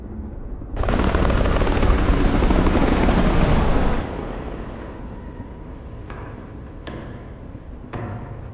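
A helicopter roars in loud and close, its heavy rotor and engine noise holding steady for several seconds before easing off into a quieter drone, as a chopper lands on a train in an action film scene; a few sharp bangs follow.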